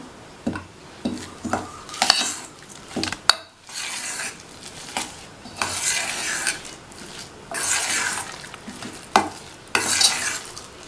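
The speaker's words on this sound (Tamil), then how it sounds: "இன்னொரு 1/4 கப் தயிர் சேர்த்துட்டு மறுபடியும் நல்லா கலந்து விட்டுறலாம்." Semolina batter with curd mixed vigorously in a bowl: bursts of wet scraping and slapping strokes, with a spoon clinking against the sides between them, close and loud, no speech.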